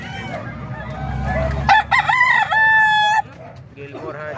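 A rooster crows once loud and close, a long rising-and-holding call among fowl kept for sale in Calumpit, with quieter clucking before and after.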